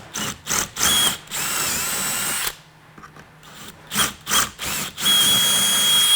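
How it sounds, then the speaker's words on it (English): A power drill bores holes in a Wilson case to fit a pull-out handle, running in short whining bursts with a pause in the middle and then longer runs, close and loud. "another person's going to start the drilling"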